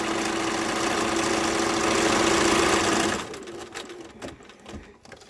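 A sewing machine runs at a steady fast stitch while chain piecing fabric masks, buzzing loudly for about three seconds before stopping, followed by faint handling clicks and rustles.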